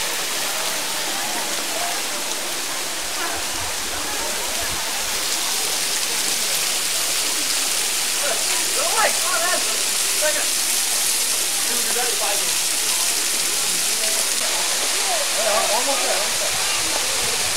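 Sturtevant Falls roars as a steady, loud rush of falling water on a hiking trail, with people talking faintly beneath the continuous noise.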